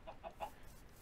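Chickens in a video game give three quick, soft clucks in a row early on, faint and close, followed by a quiet lull with light background noise.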